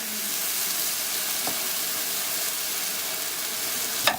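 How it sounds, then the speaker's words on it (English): Rice sautéing in a pan with a Knorr tomato bouillon cube for Mexican red rice, giving a loud, unbroken frying hiss with a faint click near the end. "Let's saute our rice again."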